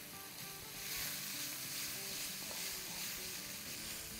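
Mutton frying in oil for a chili stir fry gives a steady, dense, loud sizzle that holds without a break.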